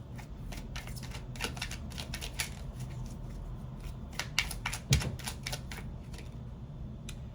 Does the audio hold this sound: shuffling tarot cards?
yes